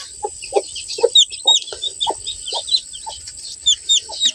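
Chickens cluck in short repeated bursts close by, with a hen's rhythmic clucks and high chick peeps layered over a quiet farmyard background.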